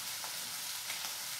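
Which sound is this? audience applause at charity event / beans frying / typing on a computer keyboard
beans frying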